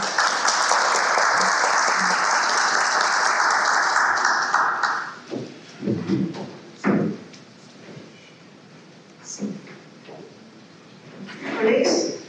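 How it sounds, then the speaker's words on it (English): A conference audience at an opening-remarks session applauds loudly and densely for about five seconds. The clapping then cuts off, leaving scattered thuds and shuffling noises. "may we please give another round of applause"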